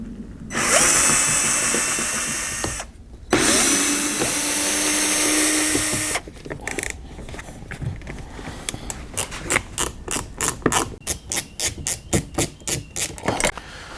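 A power screwdriver whirs loudly through two long bursts, backing screws out of a Hyundai ix35 door panel, then gives way to a run of short, rapid clicking and rattling bursts nearby.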